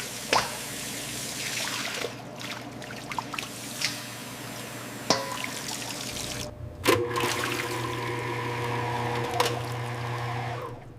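Water runs steadily over dragon fruit during a secondary wash in a factory, a continuous splashing wash with occasional drips and clunks of machinery, close and fairly loud without speech.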